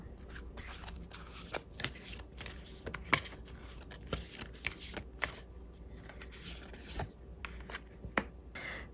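Tarot cards are shuffled by hand in a steady stream of close, crisp riffling and rubbing, with soft slaps as the deck is handled and no talking.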